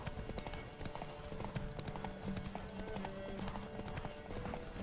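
Rapid rhythmic hoofbeats of a galloping horse in the video game The Witcher 3 play over game music, quiet and steady.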